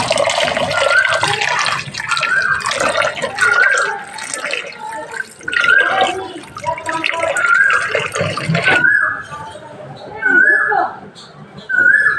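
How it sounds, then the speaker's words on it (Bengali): Water pours off soaked lentils in a kitchen with gushing and splashing in uneven bursts, while a person talks over it. "তো চলো আমি ডালের জলটা ফেলে দিই।"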